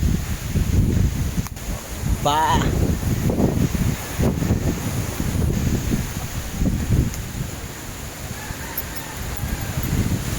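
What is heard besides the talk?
strong wind blowing outdoors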